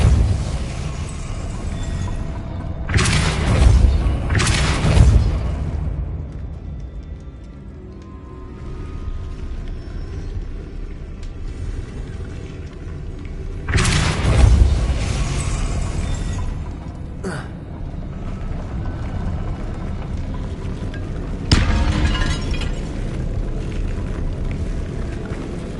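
Depulso spell cast in the Hogwarts Legacy video game to spin a mechanism and raise a platform: heavy booming, whooshing bursts that come in clusters with a rumbling low tail, over a steady ambient game background.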